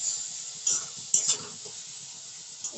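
Chopped garlic frying in a hot pan for a chicken dish, sizzling steadily while being stirred, with a few sharper scrapes and crackles breaking through the soft hiss.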